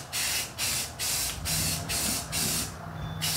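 A spray gun sprays paint onto vintage Volkswagen Beetle wheels from a 1956 oval window rag-top, in about seven short hissing bursts separated by brief gaps under a low steady hum.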